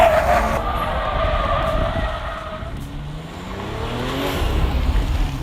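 A BMW 8 Series Gran Coupe engine revs loudly and close up as the car is driven briskly through corners, pitch falling and climbing again with a faint tyre scrub.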